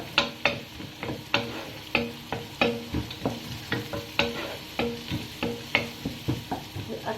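Carrots and other hard vegetables frying in a pan, a soft continuous sizzle marked by a regular beat of utensil knocks and scrapes as they are stirred, fairly quiet and with no talking.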